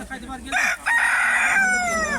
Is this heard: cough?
no